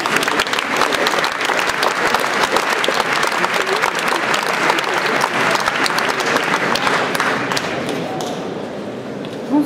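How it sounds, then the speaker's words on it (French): A large audience at the Utopiales 2017 science fiction festival awards ceremony applauds loudly and steadily for nearly ten seconds, a dense wash of clapping that thins slightly at the end. "Vous pouvez les applaudir."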